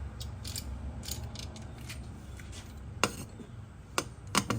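A ratchet tightening bolts on a car's camber adjustment, quick clicking ratchet strokes in short bursts with a few sharper clanks near the end, close over low background hum.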